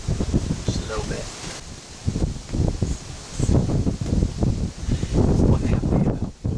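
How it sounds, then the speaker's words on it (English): Strong wind buffets the microphone in heavy low gusts, with leaves rustling and a voice speaking intermittently beneath the roar. "It's a little windy."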